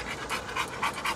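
Two dogs, a two-year-old and a four-year-old, pant steadily and close by, with rhythmic breathy bursts repeating about every quarter second and no talk over them.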